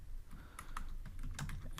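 Quiet, steady tapping on a computer keyboard, keys pressed in quick irregular runs at close range with no voices.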